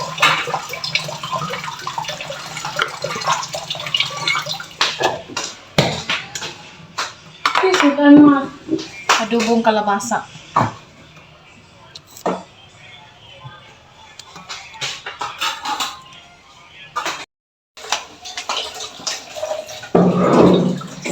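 Tap water runs into a home washing machine to fill it for laundry, with a steady rushing stream, occasional clattering of dishes and pans, and people talking over it.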